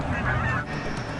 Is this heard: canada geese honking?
yes